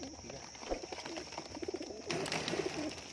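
Salara Teddy pigeons give soft repeated cooing calls close by, with scuffling and wing movement as the birds fight, fairly faint against steady background noise.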